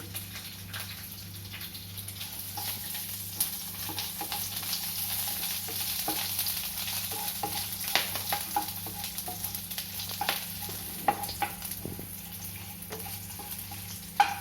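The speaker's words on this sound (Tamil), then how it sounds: "இது இதை 2 minutes சாட்டே பண்ணி இங்கே" Spices sautéing in a pan for a diabetic-friendly millet ramen, a soft steady sizzle with scattered faint clicks of stirring, fairly quiet throughout and without any voices.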